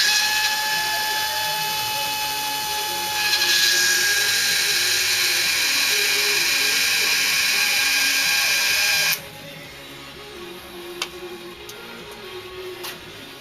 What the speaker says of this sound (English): You can hear it in the pump when it's trying to suck the fuel up out of the jug.